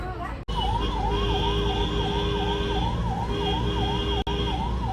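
An ambulance siren wails in a rapid rising-and-falling pattern, loud and close, over the steady rumble of road traffic.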